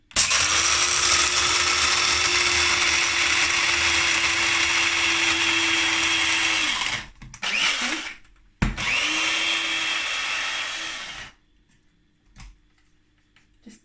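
An electric grinder whirs steadily through dark roast coffee beans for a moka pot, a loud continuous buzz for about seven seconds, a brief stop, then another few seconds of grinding before it shuts off.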